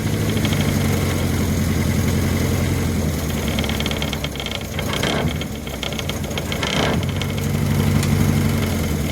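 An abandoned classic car engine runs roughly up close, fed only by fuel through the bulb with no working idle, its uneven chugging sputtering and dipping around the middle before steadying again, with no talk over it.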